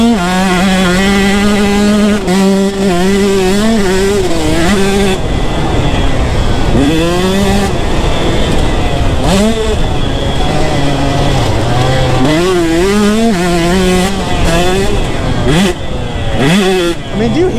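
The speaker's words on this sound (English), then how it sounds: "No other feeling like holding a two-stroke, just absolutely wide open" A two-stroke dirt bike engine screams wide open, loud and close, its pitch rising and dropping with each throttle blip and gear change.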